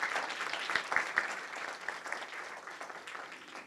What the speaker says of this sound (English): Please, a round of applause for their hard work.